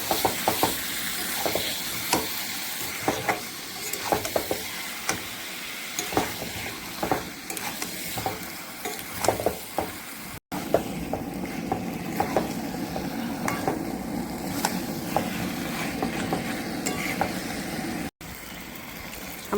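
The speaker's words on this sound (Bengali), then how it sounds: "এখন সব দিয়ে দিলাম একসাথে। এখন ভালো করে নেড়ে চেড়ে দেবো।" Chicken and potatoes frying with spices in a pan, stirred repeatedly with scraping strokes over a steady close sizzle that carries on alone without talk.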